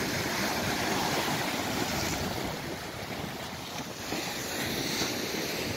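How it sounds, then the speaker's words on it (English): Strong wind roars across the beach at Garrucha, Spain, with steady surf washing beneath it, loud and continuous throughout, with heavy buffeting on the microphone and no voices. "Gee whiz, it's windy."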